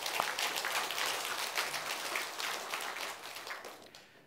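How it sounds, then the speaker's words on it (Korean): A church congregation at a Sunday service claps together, giving a fairly soft, uneven round of applause that swells and fades over about four seconds. "우리 다 같이 하나님께 영광의 박수 할까요?"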